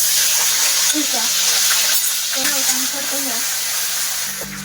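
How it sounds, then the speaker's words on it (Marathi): Steady crackling sizzle of seeds frying in hot oil, close and fairly loud, with a low voice murmuring underneath. "तेल गरम व्हायला आले, त्यामध्ये आपण जिरं आणि मोहरी घालूया।"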